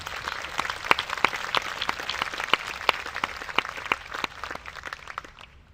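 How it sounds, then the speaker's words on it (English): A campus peace forum audience applauds two guests honored for sponsoring the month of peace. Sharp individual claps ring out over a dense crowd clapping, fairly loud and steady, then fade out at the end. "would you join me in a round of applause for those two guests?"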